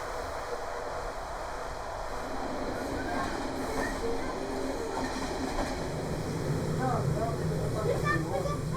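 A passenger train running through central Bulgaria on its final stretch after a locomotive change, heard from inside as a steady rolling rumble with light clickety-clack and faint wheel squeals, continuous and moderately loud.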